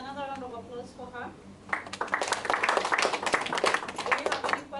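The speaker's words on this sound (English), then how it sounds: "Another round of applause for her." A crowd applauds steadily, with dense clapping building up after a moment of speech and continuing to the end.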